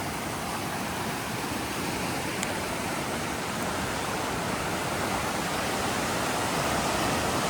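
Rushing floodwater of the swollen Elk River in North Carolina, a steady, loud broadband roar that holds constant throughout with no breaks and no voices.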